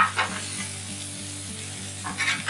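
Low country boil ingredients sizzle steadily on a flat griddle, with scraping stirs at the start and end over a continuous, close hiss.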